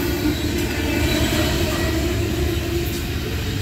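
Norfolk Southern freight train cars rumble past close by in Karns, Pennsylvania, a continuous heavy roar with wheel noise and faint metallic squeals.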